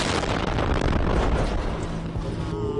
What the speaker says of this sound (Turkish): Patlama anı tankın kamerasından da görüntülendi.